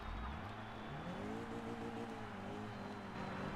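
Several race cars in the Forza 2 video game roar together in a steady, continuous engine drone, their pitches rising and shifting as the pack accelerates, with no talking.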